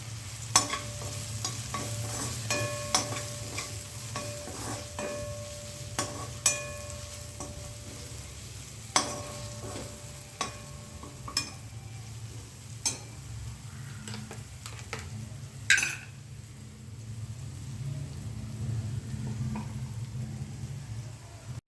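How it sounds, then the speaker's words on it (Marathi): Onion and tomato sautéing with red chilli powder, turmeric and garam masala, a steady low sizzle running throughout while a spoon scrapes and taps the pan at irregular intervals; close, with no voices. "कांदा टोमॅटो भाजल्यानंतर त्याच्यामध्ये लाल मिरची पावडर, हळद, गरम मसाला चांगला परतून घ्या।"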